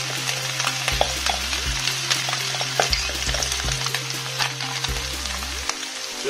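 Beef and vegetables sizzle and fry in a pan, with a continuous crackling hiss broken by repeated scraping stirs, close and moderately loud, with no talk.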